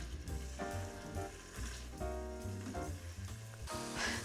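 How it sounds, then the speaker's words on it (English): Onions and garlic sauté in an Instant Pot with a steady, soft sizzle, running continuously beneath a louder layer of tonal background sound. "So while my onions are sauteing"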